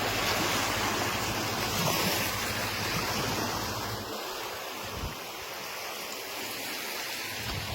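Sea waves wash over a sandy shore lined with dead trees, giving a continuous broad roaring hiss that eases slightly partway through, mixed with wind buffeting the microphone.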